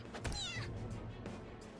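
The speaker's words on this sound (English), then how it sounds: "Goddamn cat!" A cat in the Persona 5 video game lets out a loud, drawn-out meow with a rising and falling pitch, followed by a softer tail of sound over steady low game background noise.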